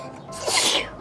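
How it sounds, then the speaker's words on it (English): A single quick sneeze from a small dog, close and sharp, with a breathy burst that fades quickly. "Bless you, puppy."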